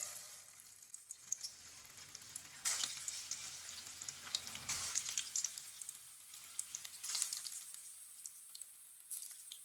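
Chicken and bitter gourd kebabs dropped one by one into hot oil, frying with a soft steady sizzle and brief louder bursts as each piece goes in.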